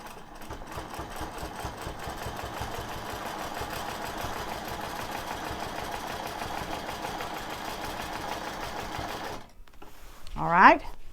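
A sewing machine stitches a quilt in a long steady run of rapid, even mechanical clatter, close and moderately loud, stopping near the end, with someone talking over it.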